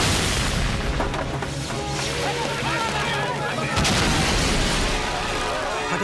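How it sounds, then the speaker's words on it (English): A military complex explodes in an animated Spider-Man series. The sound is a loud, sustained roar of blasts and crackling bursts, with a fresh surge partway through and shouting voices mixed in. "It's going to explode!"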